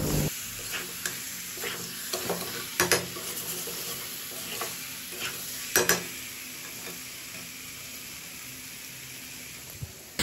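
Potatoes, pointed gourd and shrimp are stirred in a frying pan, a steady sizzle running throughout with a few sharp utensil scrapes and knocks.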